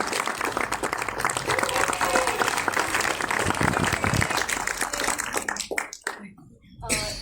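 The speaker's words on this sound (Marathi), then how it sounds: "जोरदार टाळ्या मानसी पाटीलसाठी." Loud applause from an audience at a film song launch event, with voices mixed in, fading toward the end.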